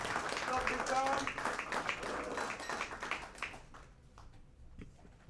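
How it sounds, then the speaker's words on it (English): An audience at a radio live event claps and cheers to welcome a boys basketball head coach to the stage, a dense burst of applause with voices mixed in that thins out and fades toward the end. "give him a round of applause and welcome him to the stage"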